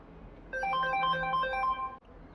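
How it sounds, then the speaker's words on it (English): A mobile phone ringtone goes off during a gaming session, playing a bright, repeating melodic beep pattern for about a second and a half before cutting off abruptly against a quiet background. "Sorry, folks, that was my phone."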